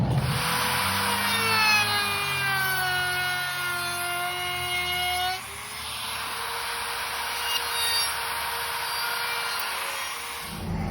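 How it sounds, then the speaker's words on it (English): An old laminate trimmer fitted with a round-over bit whines at a high pitch as it routes the edge of cheap plywood, its tone dropping as it loads up mid-cut and then steadying, loud and near. "round over profile bit here on my old guy laminate trimmer"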